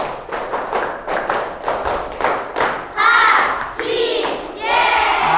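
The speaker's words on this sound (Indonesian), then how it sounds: "tepuk gembira." A class of children claps out a rhythmic 'tepuk gembira' happy clap in a steady run of sharp beats, then calls out together in excited group voices at the end.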